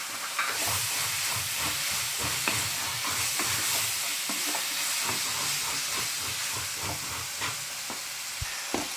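One chopped tomato of about 100 grams sizzles steadily in hot oil in a pan for chicken kurma, a loud continuous frying hiss with occasional soft scrapes and pops throughout.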